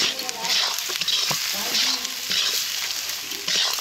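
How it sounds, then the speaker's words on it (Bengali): Meat sautéing in a pan with salt and chili powder, cooked in a large batch, gives a continuous close sizzle broken by repeated scraping strokes as it is stirred. "এইভাবে ভালো করে কষে নেব।"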